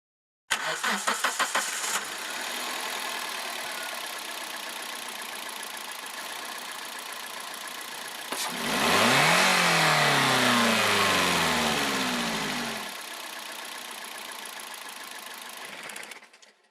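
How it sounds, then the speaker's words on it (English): A car engine fitted with a crankshaft position sensor cranks briefly, catches and settles into a steady idle, then rises in a sustained rev for several seconds before dropping back to an even idle and cutting off. "Start the engine."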